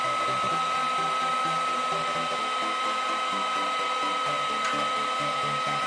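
A heat gun heats a bolt to melt holes while making a DIY motorcycle pulling strap. It gives a loud, constant blowing roar close by with a faint underlying hum and no speech.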